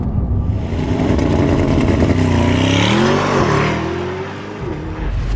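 A Mercedes-AMG GT 63 V8 accelerating hard, its engine roaring loud and close with rising pitch sweeps through gear changes, a brief dip, then building again as the car keeps pulling.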